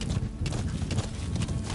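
Clip-clop hoofbeats of a horse in the game Metal Gear Solid V: The Phantom Pain, a steady, fairly loud rhythm running through the whole stretch over a busy background.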